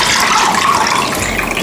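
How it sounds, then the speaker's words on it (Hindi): Water poured steadily into a small clay bowl, a loud, continuous splashing rush with no break and no voices. "इसमें भी पानी भर देंगे।"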